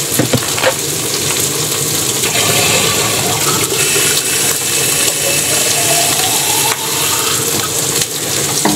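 Water is poured into a cooking pot of palabok sauce on a stove, a loud continuous splashing gush with some sizzling that runs for several seconds without talk.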